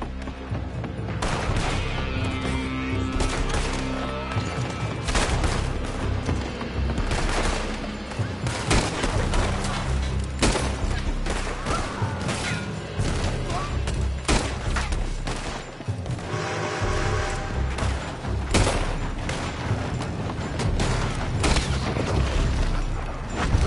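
Gunfire from Red Dead Redemption 2 fills a shootout scene: dense volleys of rifle and pistol shots crack repeatedly and irregularly, some near and sharp, others echoing, with occasional heavier booms mixed in.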